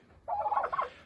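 A white broad-breasted turkey lets out one close, loud gobble, a rapid warbling burst lasting under a second, alone against a quiet background.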